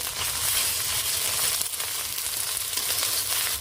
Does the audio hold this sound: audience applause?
no